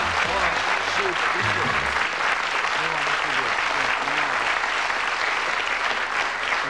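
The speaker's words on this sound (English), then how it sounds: "give them a nice, warm Christmas round of applause" Warm, steady applause from a studio audience at a Christmas game show as prize-winning contestants leave, loud and continuous, with musical tones sounding faintly underneath.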